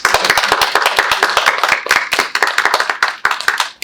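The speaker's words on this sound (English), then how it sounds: "Round of applause" Audience clapping at a university student panel event, with distinct, close individual hand claps in a rapid, uneven rhythm that stays steady for several seconds.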